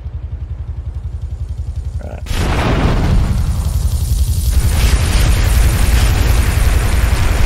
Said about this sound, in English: Okay, just random fucking explosions.